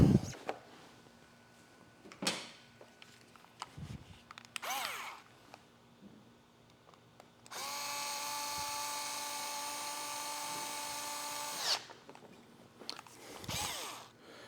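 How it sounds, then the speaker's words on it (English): A power drill whirs steadily at high speed for about four seconds, close by, installing Harley motorcycle grips, between scattered clicks and handling noises. "We'll get the drill."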